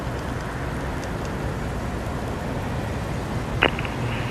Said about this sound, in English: Sounds like it's raining. Oh, it is raining, isn't it?